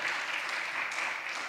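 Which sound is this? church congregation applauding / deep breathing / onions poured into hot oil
church congregation applauding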